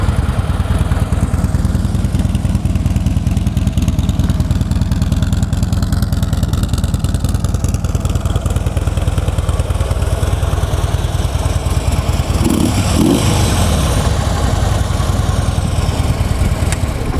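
Harley-Davidson Ultra Limited motorcycle with factory exhaust idling close by, a loud, steady low-pitched lumpy rumble that runs continuously and evenly throughout, with no talk over it.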